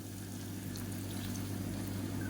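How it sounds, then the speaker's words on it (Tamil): A little water is poured into a pan of cooking tomatoes, a soft steady trickle over a low constant hum, with a brief louder splash at the end. "கொஞ்சமாக தண்ணி விட்டுக்கலாம்"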